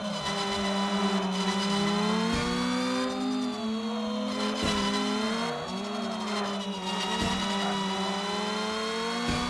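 A race car engine in the video game Screw Drivers drones at high revs in a steady whine, with shifting pitch, occasional gear changes and tire squeal, continuous and close.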